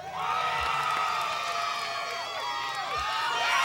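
Crowd cheering and shouting with high whoops from an audience at a Spanish-language entertainment contest, steady and loud for a few seconds, with no clear clapping.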